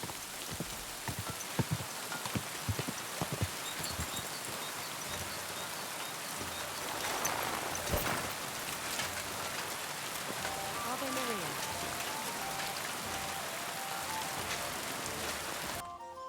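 Rain in the video game Kingdom Come Deliverance 2 falls steadily for the whole stretch, a continuous patter with occasional louder drops and faint background sounds.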